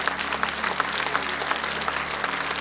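A congregation at a church revival service claps hands in a dense, steady wash of applause, loud and sustained with no voices standing out.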